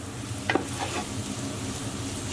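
Butter being stirred into onions in a pot for French onion soup produces a low sizzle with a few sharp spoon scrapes and knocks, nearby and without talk.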